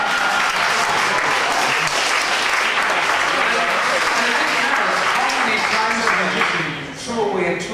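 Loud, dense applause from a crowd watching a magic card trick at an art space, sustained clapping that fades near the end while voices come through underneath.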